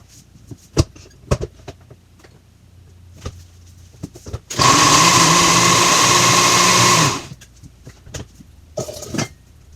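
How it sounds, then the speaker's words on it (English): A kitchen blender purees gazpacho vegetables in one loud, steady whir lasting a few seconds, with quieter clatter and handling noises before and after. "blend up most of it really, really well and then do the last batch of it not as smooth"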